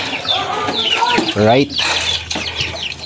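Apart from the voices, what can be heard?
caught native chicken clucking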